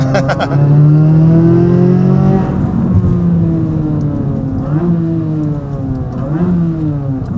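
A deep, rumbling exhaust from a modified Corvette C8 Z06 sports car idles and burbles loudly, with a couple of brief rising revs, close by.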